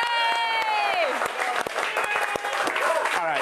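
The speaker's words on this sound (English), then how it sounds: "Hey, everybody, clap for Brian." A studio audience on a TV show claps and cheers for Brian, a short burst of applause heard under voices and a cheer.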